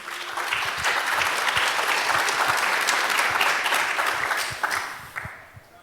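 An audience at a tech conference closing session claps steadily in a broad, even wash of applause that holds for several seconds, then thins out and fades away toward the end.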